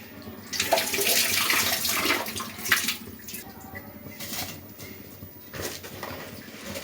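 Raw rice is rinsed by hand in water in a home kitchen before cooking sweet pongal, a close, continuous sloshing and swishing with uneven surges and no talk.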